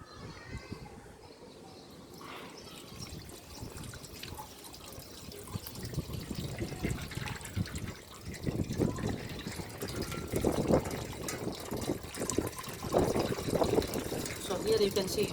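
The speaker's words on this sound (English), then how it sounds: "So here I am pouring water." Water is poured onto a small turbine model, a splashing, trickling stream that starts soft and grows louder and more turbulent over the final seconds.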